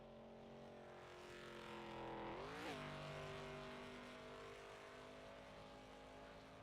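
Landon Lyle's race truck roars through burnouts at Talladega, a loud sustained engine drone with a rising rev swell around the middle before it settles back into a steady high-rpm howl.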